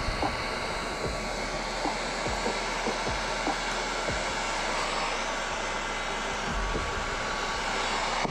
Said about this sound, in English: start heating this plastic until it gets to almost a goo, and then you're gonna mend them together